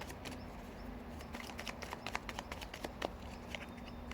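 Tarot cards are shuffled and drawn by hand, soft rapid riffling and flicking taps close by with a quiet room hum underneath, no talking.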